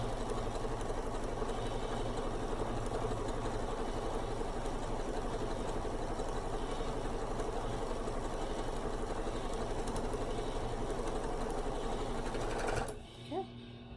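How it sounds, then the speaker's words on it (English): A sewing machine runs continuously for about thirteen seconds, stitching a quarter-inch seam on a scrap quilt with a fast, steady, close mechanical whir, then stops abruptly. "I am just going to sew 1/4 of an inch all the way down"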